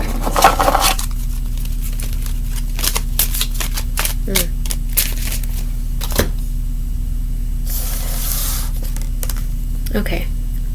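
Rapid papery riffling of cards being shuffled, in repeated bursts close by, with a steady low hum underneath.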